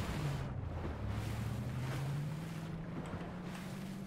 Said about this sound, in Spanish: ¿Cómo cojones estás llevando un coche en el agua?